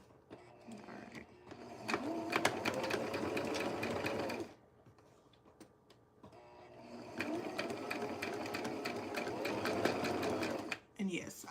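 VikiSews chainstitch sewing machine stitching a Liliana vest, running in two long steady bursts of close, loud rhythmic whirring with a short pause between, and a voice talking briefly over it.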